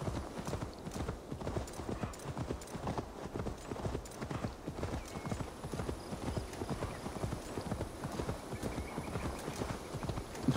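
A horse gallops under a rider in the video game Assassin's Creed Valhalla, its hooves beating a fast, steady rhythm throughout at a fairly faint level.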